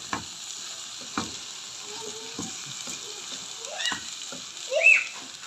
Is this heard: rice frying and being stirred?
yes